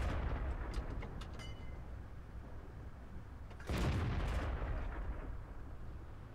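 A tank gun firing in World of Tanks, with one sudden booming blast partway through that rises over a low rumbling game background and then decays slowly.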